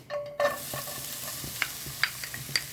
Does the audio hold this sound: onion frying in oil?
yes